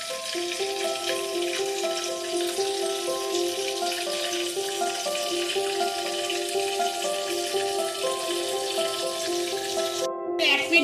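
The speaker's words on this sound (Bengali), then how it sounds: "আমি বেগুনটা উল্টে দিয়েছি, দিয়ে আর এক পিঠ ভাজতে দিয়েছি" Eggplant slices fry in a pan with sesame and poppy seeds scattered over them, giving a steady, dense sizzle throughout, while soft music-like tones hold underneath and a brief sharper crackle rises near the end.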